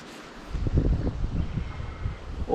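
Wind gusting across a microphone beside a river during fly fishing, a low rumbling buffet that swells and eases over a couple of seconds with no voices.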